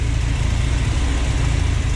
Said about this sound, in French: j'en ai marre de l'entendre tourner par rond ce moteur